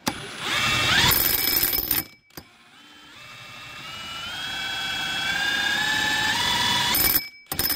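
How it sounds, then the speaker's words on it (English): A Ridgid impact driver spinning a small VEVOR wind turbine whirs up to speed, its tone climbing steadily into a sustained mechanical whine, then cutting off abruptly. "I'm gonna try it on the impact now"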